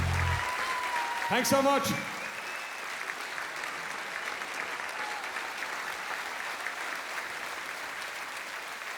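Concert audience applauds steadily throughout, a broad crowd wash at a live country music show, with a brief spoken thanks near the start over the clapping.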